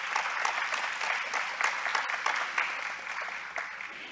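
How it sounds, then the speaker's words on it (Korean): A conference hall audience at an Incheon forum opening ceremony claps for the welcome speakers, a brisk, busy stretch of applause with sharp individual claps standing out, continuous from start to end. "환영사와 축사를 해주신 모든 분들께 다시 한번 큰 박수"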